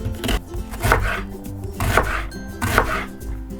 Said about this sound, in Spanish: Ahora vamos a cortar la cebolla.